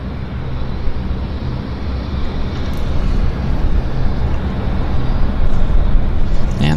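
A Jazz Q400 turboprop airliner takes off at Vancouver airport, its broad, rumbling engine roar swelling steadily louder over several seconds from a distance.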